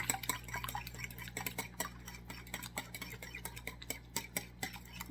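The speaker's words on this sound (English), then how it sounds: "we're just going to pre-mix up these eggs" Eggs for pistachio chocolate brownies are whisked in a bowl, with rapid, close clinks and taps of a utensil against the bowl in an uneven rhythm, alone and fairly quiet.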